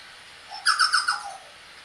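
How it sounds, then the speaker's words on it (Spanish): A chucao tapaculo squawks violently from a forest branch, a burst of four or five loud, harsh, rapid calls followed by a fading trailing note, with no talk. "el pájaro volvió a graznar de forma violenta"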